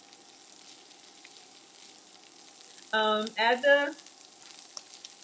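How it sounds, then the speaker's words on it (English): Onion and shallot sizzling in a pan during a shrimp scampi cooking demo, a faint steady fry beneath a short burst of a person talking. "So we've got our onion and our shallot sizzling."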